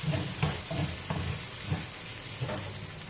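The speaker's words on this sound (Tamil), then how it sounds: "கொஞ்சமாக வதக்கிக்கோங்க." Mustard seeds and spices sauté in a hot pan for green pea sundal, giving a continuous close sizzle with soft crackling pops and the occasional scrape of stirring, with no talking.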